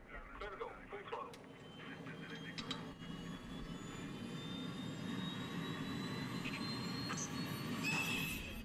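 Loud, steady jet engine roar of an airplane taking off at full throttle, played as a movie sound effect in a theatre, swelling slowly and holding for several seconds with no pause.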